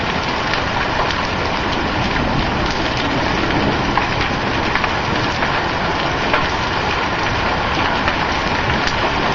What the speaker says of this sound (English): It's not even raining now. It's just hailing.